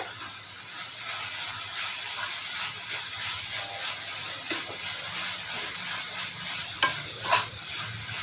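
Onions with coriander and mint stirred and sautéing in a pan for a spicy Arabian chicken dish, soft continuous sizzle with scraping stir strokes and a couple of sharper clinks near the end.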